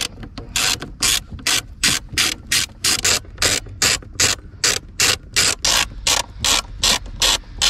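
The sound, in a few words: ratchet undoing Torx 20 screws under BMW 1 Series seat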